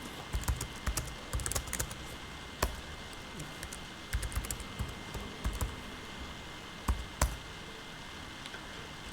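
Java code being typed on a computer keyboard: quiet, close key taps in uneven bursts, with occasional louder presses and short pauses between runs.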